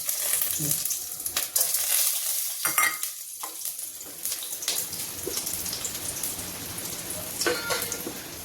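Whole garam masala (cinnamon, mace, black pepper, a red chili and cardamom seeds) fries in hot oil, producing irregular crackling pops and spatters over a soft sizzle at moderate loudness.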